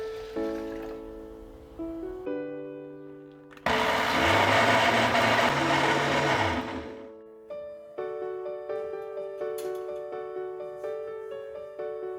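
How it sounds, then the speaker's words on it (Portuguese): A blender blending oats and water roars loudly for about four seconds in the middle, with a churning, grinding whir, surrounded by quieter background music. "E a gente bate no liquidificador tudo junto"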